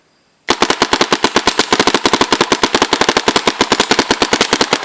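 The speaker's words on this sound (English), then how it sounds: "we have the gun set to uncapped full auto. So we're gonna see how fast this loader's gonna shoot" A Virtue Spire loader feeds a foam dart blaster set to uncapped full auto, firing a loud, close, rapid and steady stream of shots that starts abruptly and hammers on without pause.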